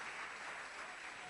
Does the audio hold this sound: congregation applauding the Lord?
yes